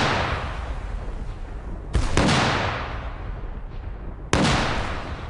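Cannon artillery fires twice, each shot a loud, sharp blast trailing into a long rumbling decay, spaced a couple of seconds apart.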